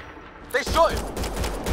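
Gunfire from the video game Mass Effect Andromeda, a loud burst of shots erupting mid-clip and continuing as a steady rattle under a shouted voice, with ambient game noise before.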